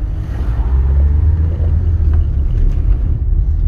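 A Rover 213S SD3 car driving along a town road, its engine giving a steady low rumble with road noise throughout, heard from inside the cabin.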